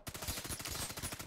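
Gunfire in the video game The Division 2: a rapid, continuous run of automatic shots with dense, evenly spaced cracks at close range. No voices are heard.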